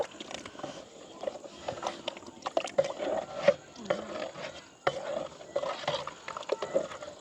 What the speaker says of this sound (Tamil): சவ்வரிசி போட்ட உடனே இப்படியே நல்லா கலந்து விடணும்